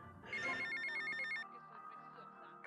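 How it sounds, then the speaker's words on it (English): Payphone in the Grand Theft Auto Vice City video game ringing with a bright electronic bell trill that holds for about a second, then fades into a lower game tone before a sharp burst at the end. "Get to the payphone at the airport terminal"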